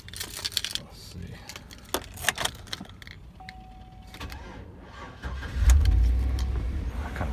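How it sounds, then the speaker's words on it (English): 2010 Chevy Tahoe with a worn starter cranking slowly before the engine catches, rising into a steady low idle rumble, preceded by scattered clicks and cabin rustling. "Kind of a slow start. Starter's getting kind of bad on it."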